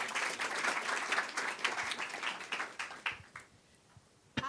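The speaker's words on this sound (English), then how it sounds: "please give her a round of applause" Audience applause at a panel workshop on antimicrobial resistance, many hands clapping briskly, then thinning into scattered individual claps and fading to near silence, with one last clap at the end.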